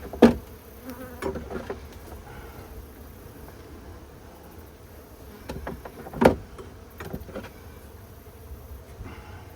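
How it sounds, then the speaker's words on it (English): Bees at a honey beehive during frame inspection, a faint steady buzzing with a couple of sharp knocks and clatters of frames close by, no talking. "See, here's a bumblebee, so we'll just get rid of that guy."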